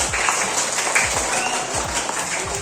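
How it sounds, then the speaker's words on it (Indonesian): Classroom applause for a father who answered a question about the traits of living things, a steady wash of clapping from a group of pupils, fairly close, with a few voices mixed in. "Tepuk tangan untuk Bapak"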